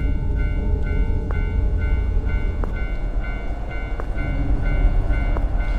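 Subway train arriving at Kisaragi station in a horror video game: a steady low rumble with sustained tonal hums and a few sharp clicks recurring about every second, with no voices.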